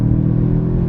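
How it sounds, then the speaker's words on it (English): A tuned 800-horsepower Land Rover Defender OCTA with a Milltek Sport race exhaust accelerates on the Nordschleife, heard from inside as a loud, steady low rumbling drone with no gaps. "This has got the full Milltek Sport race exhaust, and it's got some tuning done"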